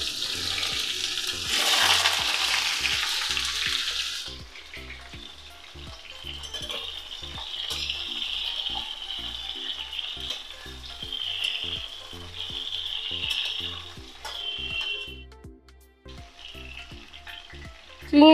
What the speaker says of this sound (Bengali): সরষের তেল দিয়ে নিচ্ছি, 5 ফোড়ন দিয়ে নিলাম। এবার আমি সবজিগুলো দিয়ে দিচ্ছি।